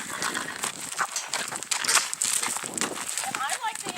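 A horse is led on foot at a ranch, hooves clopping irregularly on the ground close by, mixed with rustling and steps while a person talks over it throughout.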